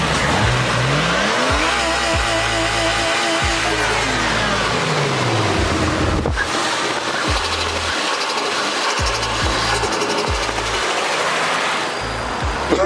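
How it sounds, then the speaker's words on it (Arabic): Nissan Skyline engine on its first start, blow-off valve removed, revving hard with repeated rising and falling pulls and fluttering turbo chatter between them, loud and close with no talk over it. "What do you think of the turbo sound?"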